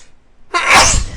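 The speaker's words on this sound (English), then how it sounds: "I have to sneeze." A single loud, close sneeze bursts out after a brief quiet moment, sharp at the onset and trailing off in a breathy rush, from a lecturer partway through a class on heart physiology.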